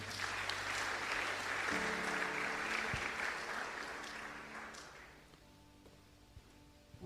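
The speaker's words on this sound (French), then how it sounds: "Acclamons le Seigneur." A church congregation bursts into sustained applause during a sermon, a dense wash of clapping that holds steady and then gradually fades toward the end, with faint background tones underneath.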